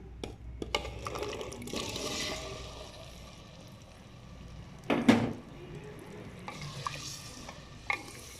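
Potatoes go into a cooking pot for an egg and potato curry, followed by stirring and a soft sizzle with occasional clinks and thuds against the pot.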